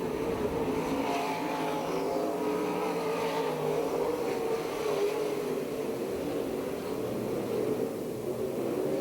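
PASSCAR stock cars race around an oval track at Perris, California, their engines making a continuous droning roar with shifting pitch as the pack circles, moderately distant and steady.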